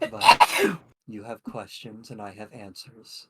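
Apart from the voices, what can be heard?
sneeze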